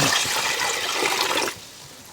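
Water from a 5-liter measuring cup is poured into chlorine while making homemade bleach, a loud steady rushing splash for about a second and a half that then cuts off, leaving a quieter trickle.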